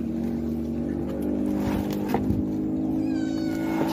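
A house cat meows near a fish-trap catch, several drawn-out mewing calls rising and falling over a steady background hum, with no talk.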